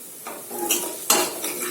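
Spoon stirring turmeric and chili powder into a cooking pan of ginger-garlic base for dal with ridge gourd, giving a few scraping clinks against the pan over a faint sizzle, close and moderately loud, with no talk.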